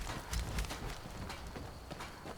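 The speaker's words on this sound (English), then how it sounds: "Why is there a horse? It's my horse. My horse is trying to follow me" A horse's hooves clip-clop in Skyrim, a quick uneven run of close, moderately loud hoofbeats over a faint background.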